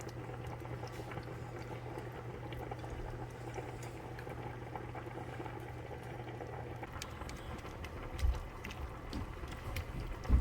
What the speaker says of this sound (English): Now let it just simmer in here for a minute